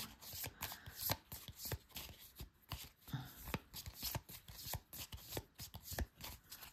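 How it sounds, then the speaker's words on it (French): Deck of cards for the board game Maquis being shuffled, a dense run of crisp riffling flicks and snaps at close range, steady throughout with no talking. "on va remélanger le deck à nouveau"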